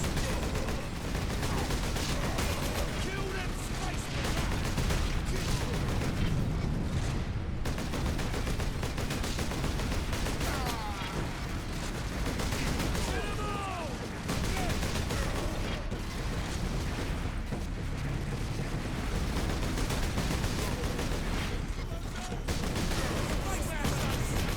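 Dense, nonstop gunfire and explosions in a Warhammer 40K Space Marine video game battle, loud and continuous throughout with heavy rapid bursts, with a voice speaking at times over the din.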